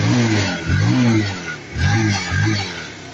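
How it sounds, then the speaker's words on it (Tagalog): A Rouser 180 motorcycle that had trouble starting comes to life nearby, its engine rising and falling through several quick revs in a loud, uneven pattern. "Ayan, paandarin natin."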